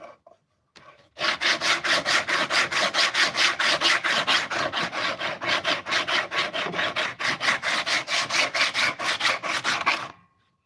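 Coarse 80-grit abrasive is worked back and forth across a knife handle, a fast, steady run of rasping strokes that continues close and unbroken for about nine seconds before stopping.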